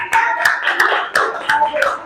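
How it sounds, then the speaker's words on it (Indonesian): A short burst of applause from a small group of students after a class presentation, with scattered claps and a few sharper accents, steady throughout. "Kasih tepuk tangannya Amir ya"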